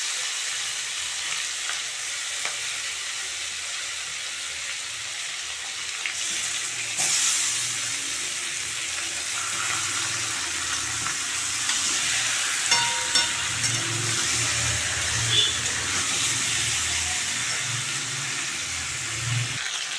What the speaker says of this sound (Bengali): মাছগুলো হালকা ভাজা হয়ে গেছে